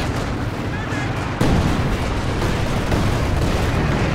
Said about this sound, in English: A Bit of a ZiS barrage coming in as well